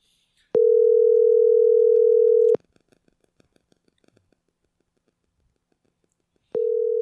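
A telephone call goes out: a loud steady ring tone sounds for two seconds, then a pause with faint clicks, then the tone starts again, with no voices.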